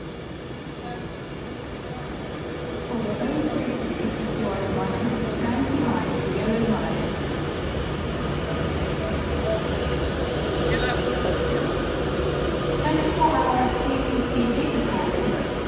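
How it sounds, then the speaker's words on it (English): An 11-coach Avanti West Coast Class 390 electric train rolls steadily out of platform 1 at Stoke-on-Trent station, its hum and rumble building, with faint squeals and people talking nearby. "the train now out on its platform 1 is the insanely delayed 15:10 Avanti West Coast service"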